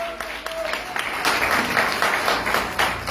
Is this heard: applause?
yes